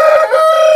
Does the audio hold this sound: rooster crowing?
yes